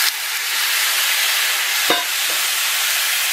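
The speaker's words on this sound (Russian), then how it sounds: "И буду все обжаривать вместе." Chopped tomatoes and peppers frying in a pan, a loud steady sizzling hiss close up, broken by a brief stirring scrape near the middle and a softer one after.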